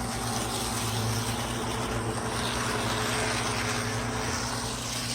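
An Athearn SD45 model locomotive, just serviced, runs at high throttle while pulling a load: a steady, dense motor whir and rumble with constant loudness, close, with no talking.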